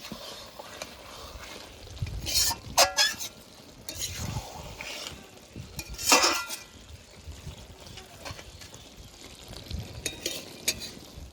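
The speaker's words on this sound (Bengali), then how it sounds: "চচ্চড়িটা একটু নেড়ে চেড়ে নিচ্ছি" A small-fish chorchori is stirred in a pan, with intermittent scraping strokes and soft wet sizzling, fairly quiet with irregular bursts of louder stirring.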